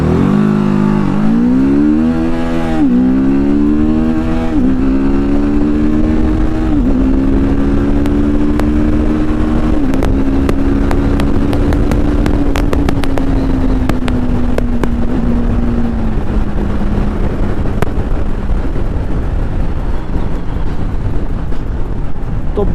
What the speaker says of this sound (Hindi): मैं आपको एक बार एक्सेलरेशन प्लस क्विक शिफ्टर दोनों चीज़ें दिखाता हूँ साथ में किस तरीके से काम करती है